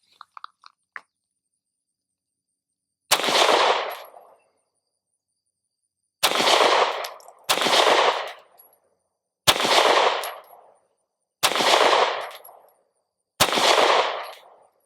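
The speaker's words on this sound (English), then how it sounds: "I'm shooting the SiC P365XL 10 rounds at each target" Six sharp, loud gunshots from a Sig P365XL pistol fired at targets on an outdoor range, spaced unevenly about one to two seconds apart, each followed by a short echoing decay.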